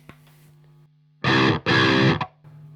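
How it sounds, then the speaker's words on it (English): Two short bursts of crunchy, overdriven electric guitar through an amp with a Tube Screamer overdrive pedal, loud and close, with a faint hum between them. "now I'm going to add tube screamers"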